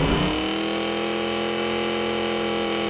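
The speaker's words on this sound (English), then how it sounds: "you see how that idle, the thing barely wants to run here because it's got such a big camshaft profile" A Mustang V8 with a big camshaft idles roughly and unevenly at close range, a loud steady lumpy rumble that carries on without pause and with no one talking.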